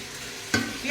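Tangra fish fry in a hot pan, giving a steady close sizzling hiss broken by a sudden stirring scrape partway through.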